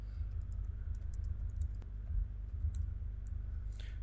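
Fingers typing a review on a computer keyboard, producing irregular light key clicks close by over a steady low hum, with no talking.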